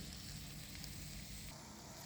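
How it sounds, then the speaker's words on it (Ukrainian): Fish and vegetables sizzle on a raclette grill, a close, continuous crackling hiss with faint irregular pops, no talking. "От як перестане шкварчать, так уже її потім зніму."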